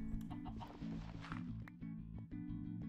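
Chickens on a video game farm cluck and squawk in a lively, repeated chatter, up close and steady throughout.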